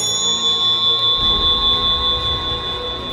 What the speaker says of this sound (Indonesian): Pijatan bel mula-mula tidak mendapat jawaban.